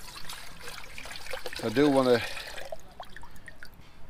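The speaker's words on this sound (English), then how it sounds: "Now is I'm going to fill my water up." Water trickles and pours briefly into a container at a camp setup beside a bike trailer tent, a short rising fill under quiet talk at close range.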